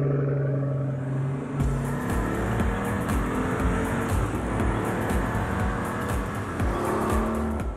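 Pagani Huayra supercar driving hard on one of the world's fastest race tracks, its engine note climbing through rising revs and gear changes, loud and close throughout, with tyre noise and no talk.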